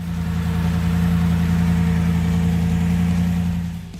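A Leyland P76 with its 4.4-litre aluminium-block V8 runs at a steady, loud, throbbing idle close by, then fades slightly at the end.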